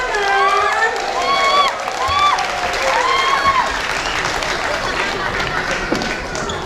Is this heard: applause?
yes